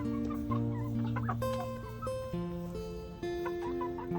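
Native Darag chickens cluck softly and continuously while feeding on hammered corn, a close cluster of overlapping low calls with steady tonal notes, with no voices heard.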